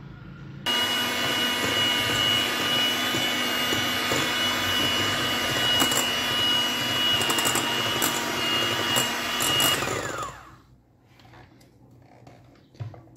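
An electric mixer beats cake batter with oil being added, a loud steady motor whine running for about ten seconds before cutting off, leaving quieter kitchen sounds.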